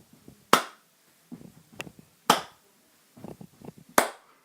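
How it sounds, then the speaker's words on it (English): Three sharp, loud impacts spaced about every 1.7 seconds, each followed by a scattered patter of softer knocks and shuffles, close by in a quiet room. "I'm gonna stamp my foot 3 times, then clap"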